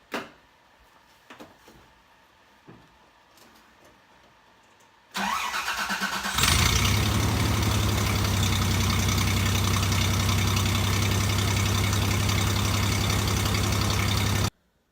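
A Subaru STI with a new exhaust cranks and fires up after a few quiet clicks, then settles into a loud, steady, rumbling idle that holds for several seconds before cutting off.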